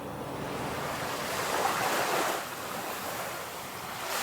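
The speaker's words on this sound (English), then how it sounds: "Why did they put ocean wave sounds over this section?" Ocean wave sound effect laid over footage, a broad washing surf swell that builds to a peak near the middle and then recedes, steady and moderately loud with wind-like hiss, no talking.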